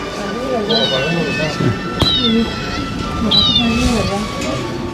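A toy cat gives three evenly spaced, electronic-sounding meows over a steady hum, with a person talking quietly underneath.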